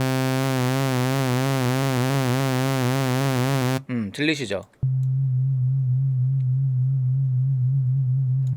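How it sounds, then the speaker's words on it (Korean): A steady synthesizer tone with a fast wobbling pitch from a phase knob being moved, then a short spoken question, then the tone continues steady and unwavering. "요 페이즈 놉을 흔들게 되면은 음정이 흔들려요"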